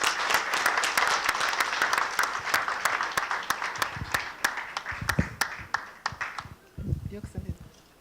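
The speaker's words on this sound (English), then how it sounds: "Please, a huge round of applause." Audience applause at an African awards ceremony in a Los Angeles Hilton hotel ballroom, dense clapping with sharp individual claps standing out, thinning toward the end as a voice speaks over the tail.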